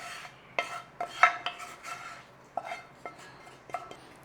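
A spoon clatters and scrapes against a bowl while a chicken mince and ham meatloaf mixture is being mixed, producing a series of sharp knocks at irregular intervals, close and fairly quiet.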